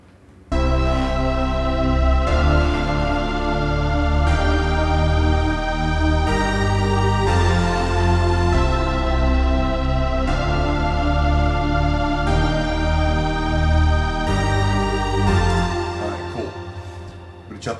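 Layered synthesizer section with a choir pad, in soprano voicing, all parts playing together as a sustained, dense chordal block with steady rhythmic changes, loud throughout and fading at the end.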